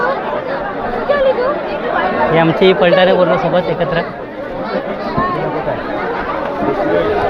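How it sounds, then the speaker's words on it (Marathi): A dense crowd chatters loudly at the Mount Mary fair in Bandra, a 300-year-old fair. The babble is continuous and close, and a nearby voice speaks over it. "खूप गर्दी आहे गर्दी वाढत चालली आता"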